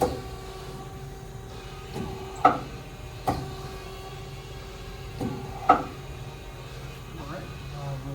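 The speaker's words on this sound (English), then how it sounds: "And advance the tailstock." DMC DL-8T CNC turning center lathe with FANUC control advancing its tailstock: a low machine hum with several sharp clunks and mechanical clicks spaced a few seconds apart, at moderate distance.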